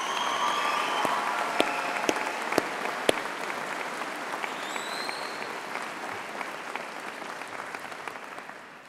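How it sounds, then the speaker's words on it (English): Audience at a Birmingham City University graduation ceremony applauding steadily, a dense wash of many hands clapping with a few sharper individual claps, gradually thinning toward the end. "I think Poppy deserves yet another round of applause"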